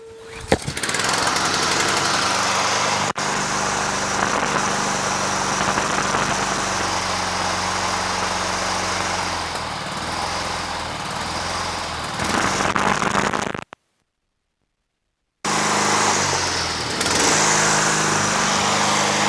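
A Honda Harmony II HRT216 Quadra Cut push lawn mower with a pull-rope recoil starter runs steadily at medium to high throttle, a loud continuous engine drone that cuts out briefly near the end, then fires up and resumes running.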